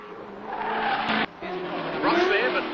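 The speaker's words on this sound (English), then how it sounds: "They're locking brakes going into the corner, and they're pushing the cars as hard as they can." Race cars at Bathurst in 1975, including a Holden Torana L34 and a Ford Capri, brake hard into a corner with squealing tyres over engine roar. A commentator talks over the sound throughout.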